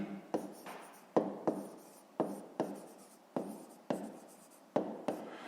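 A pen writes by hand on paper while math homework is worked out, giving a quiet, close run of short scratching strokes with sharp starts. About a dozen strokes fall in an uneven rhythm, and no voices are heard.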